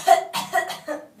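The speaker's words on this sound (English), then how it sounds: "cough hard like you're choking" Someone coughs hard during a motor speech exam, as if choking, giving three or four quick forceful bursts, close and alone.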